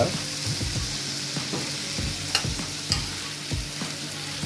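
Chicken and prawns frying in a pan for fried rice, a dense continuous sizzle with rhythmic stirring scrapes and a couple of sharp spatula clicks, loud and close with no talk.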